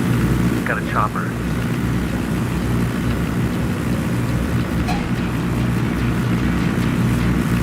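A helicopter in the Ghost Recon Wildlands video game drones as a steady, low rotor-and-engine rumble that fills the whole stretch, with brief in-game tones and clicks over it.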